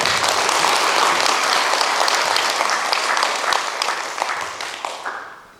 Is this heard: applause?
yes